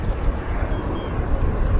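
RAF military aircraft roar overhead during a King's Birthday flypast rehearsal, a broad steady rumble heard at a distance with no talk.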